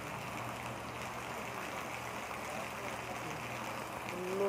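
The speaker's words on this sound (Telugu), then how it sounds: "ఫుల్ వర్షాలు ఫ్రెండ్స్" Heavy rain falling in a village, a steady, even hiss of downpour that continues throughout and swells slightly toward the end.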